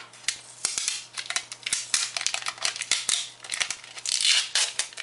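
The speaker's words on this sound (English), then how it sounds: "I'm going to peel the label off." A paper label is peeled off a Distress Pearl pen jar, giving a close, crackly series of tearing and crinkling rips in uneven bursts, with a longer scratchy pull near the end and no talk.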